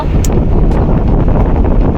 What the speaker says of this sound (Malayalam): ഈ കാറ്റത്ത് നല്ല കാറ്റ് കിട്ടുന്നുണ്ട്